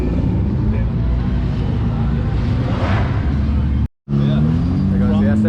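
A Ferrari SF90 drives past at a car collection, its engine note rising then briefly cutting out before returning with a revving pitch, heard amid crowd chatter and wind.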